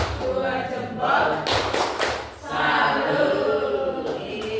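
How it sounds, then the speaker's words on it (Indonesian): An Indonesian school audience at a positive-culture dissemination event claps in short rhythmic bursts, loud and close, with a brief pause midway before the patterned clapping resumes. "Tepuk tangan Bapak Ibu."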